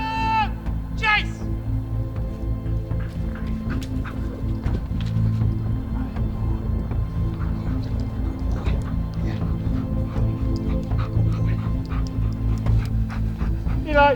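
A military protection dog, a German Shepherd or Belgian Malinois, pants rapidly and steadily up close during patrol chase training, with a few brief whimpers and outdoor noise around it.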